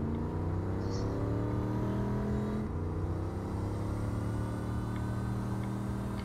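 A car driving in the video game Saints Row IV, a steady engine drone with low rumble that holds continuously, near and moderately loud with no talk over it.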